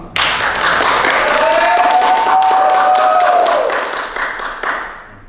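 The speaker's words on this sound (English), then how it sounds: "Another round of applause" Crowd applause at a ceremony honoring a West Point graduate, a steady roar of many clapping hands that swells quickly, holds, then thins and fades toward the end.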